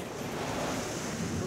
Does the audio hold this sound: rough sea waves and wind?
yes